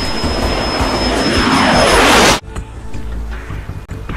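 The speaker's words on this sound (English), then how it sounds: "Flying the Russian L-39 jet" A Russian L-39 jet's engine roars loud and close in a broad, sweeping rush with a rising whine, then cuts off abruptly to a much quieter mechanical rumble.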